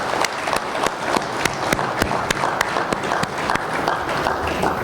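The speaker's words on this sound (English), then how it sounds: "May we give them a big round of applause?" Audience applause in an indoor event hall, steady and dense clapping from a crowd that stays loud and even throughout, with sharp individual claps standing out.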